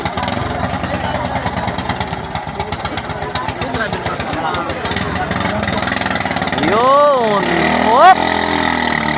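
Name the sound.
engine of Hagunot Black racing boat starting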